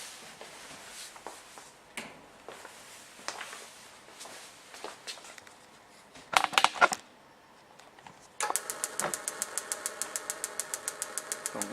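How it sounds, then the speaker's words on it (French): A gas burner starts up and lights: a quiet low rumble with scattered clicks, a short burst of ignition noise, then a steady rapid ticking of the igniter spark over a continuous burner hum. "Donc mise en route du brûleur."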